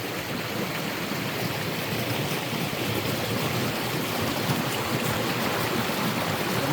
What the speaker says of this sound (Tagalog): Ganda pakinggan yung agos ng tubig